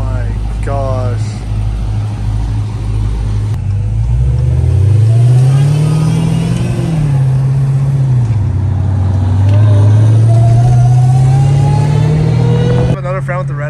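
A Dodge Hellcat Redeye engine rumbles and revs during driving, its pitch climbing and falling through several pulls, loud and near, while people talk over it.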